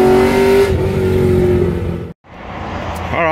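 A Dodge Viper engine revs loud and close, a strong throaty drone whose pitch shifts and falls away, then cuts out briefly before a second rising rev rips back up, no voices over it.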